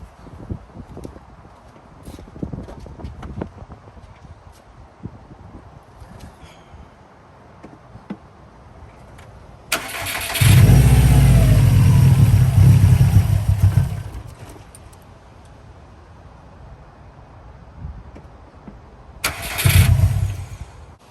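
A 2018 Subaru STI with its fuel pump removed, cranked and running: a quiet idle, then a loud revving stretch of several seconds, a lull and another short burst as it sputters toward stalling.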